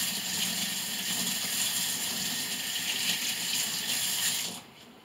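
Water-released fertilizer pellets rinsed under a running tap, a steady close splashing stream that stops abruptly near the end.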